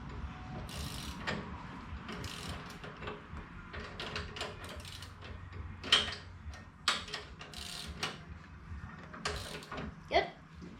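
A socket wrench ratchets down a go-kart spindle nut on a Coleman KT196, with bursts of clicking strokes and a few sharper clanks against a low background hum.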